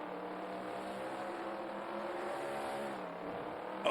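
A sprint car engine in the World of Outlaws: Sprint Cars 2002 video game holds a steady, high buzzing drone at moderate level for several seconds, ending in a brief louder burst.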